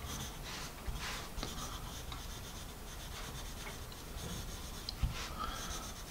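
Faber-Castell Grip pencil with an extra-thick core writing on paper, a soft continuous scratchy rubbing with small strokes and pauses, close and fairly quiet, no talking.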